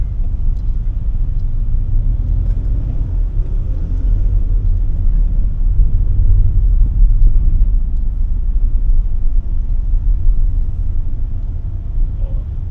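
Steady car engine rumble in heavy, slow-moving traffic circling a roundabout, a continuous loud low drone that runs without a break and has no clear voices over it.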